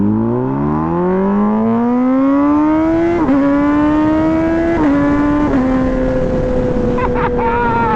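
An MV Agusta Brutale 1000RR with a full titanium Arrow exhaust accelerates hard through several gears, its loud rising engine howl dipping briefly at each shift amid wind noise.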